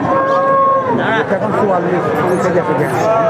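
A cow moos at a busy cattle market where thin, bony cattle are being traded, its drawn-out call rising over steady crowd chatter and nearby voices.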